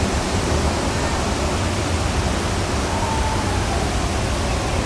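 Waterfall spray and falling water make a steady, dense rushing hiss that stays even and close throughout, with no voices.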